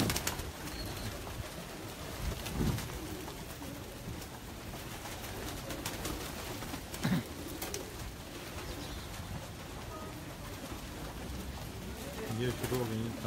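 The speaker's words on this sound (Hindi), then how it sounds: "मेरी अब कबूतर आ गए हैं दाने का टाइम हो गया सारे बाहर आ रहे हैं।" Pigeons coo softly amid a busy flutter of wings and bird calls, with people talking nearby.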